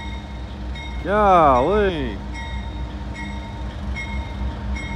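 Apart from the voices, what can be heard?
train passing on street-running tracks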